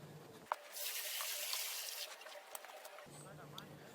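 Water is poured into a mix of cement and sand for mortar. It makes a steady splashing gush lasting a few seconds, close to the microphone, with a sharp knock at the start.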